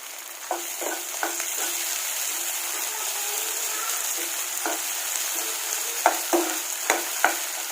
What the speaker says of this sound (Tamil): இந்த தக்காளி எல்லாம் சாஃப்ட் ஆகுற வரைக்கும் ஃப்ரை பண்ணிக்கோங்க.